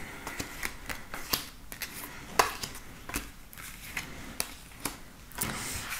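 Tarot cards being shuffled in bursts of riffling and snapping clicks, steady and close, with no voice.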